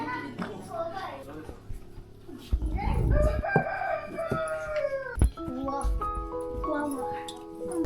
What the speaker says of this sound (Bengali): আর ওইদিকে আবার মোরগের ডাক